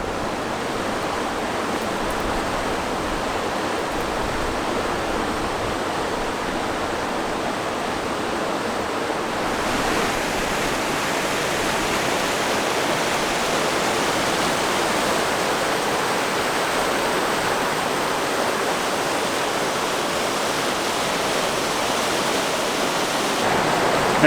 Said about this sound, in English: Man, this river looks so fun to pack raft